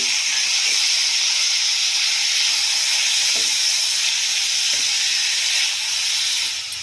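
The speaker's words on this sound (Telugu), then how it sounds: "ఇలా క్యాబేజీ మంచిగా ఫ్రై అయిన తర్వాత ఇందులోకి కట్ చేసుకున్న ఒక పెద్ద టమాటాని యాడ్ చేసుకున్నాను." Chopped cabbage and a large cut tomato fry in a pan, giving a steady, loud hiss and sizzle that runs unbroken throughout, with a few faint clinks underneath.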